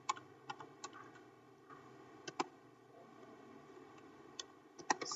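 Keys clack on a computer keyboard as router commands are typed, in sparse, faint, irregular clicks over a quiet room hum.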